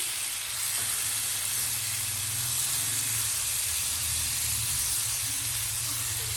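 Small chicken pieces sizzle steadily in a large pan over high flame, a continuous loud hiss of frying with a low rumble underneath, unbroken for the whole stretch.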